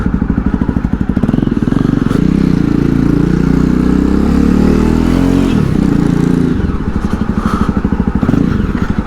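A 2020 Jawa Perak BS6 bobber motorcycle pulls away and accelerates under a rider, its loud, close exhaust thumping steadily, rising in pitch through the gears and dipping between shifts.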